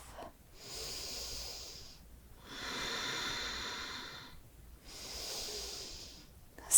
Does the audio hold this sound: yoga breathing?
yes